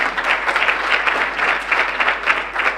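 An awards ceremony crowd applauds the CEO of ICPAR, a loud, close, continuous patter of many hands clapping with a slightly pulsing texture, without anyone speaking.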